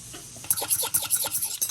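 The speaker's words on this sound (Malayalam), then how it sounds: "നമുക്കിതിലേക്ക് ലേശം പാല് ചേർത്ത് ഒന്ന് മിക്സ് ചെയ്തെടുക്കാം." Custard powder is stirred into milk in a bowl, making a quick run of rhythmic scraping and rubbing strokes, close and fairly soft.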